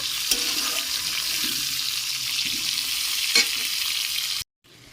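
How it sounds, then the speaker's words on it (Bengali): Potatoes for a meat curry fry in a pan of hot oil, giving a steady, close sizzle for about four seconds before cutting off abruptly. "আর এদিকে আমি আলু ভাজতে বসিয়ে দিয়েছি"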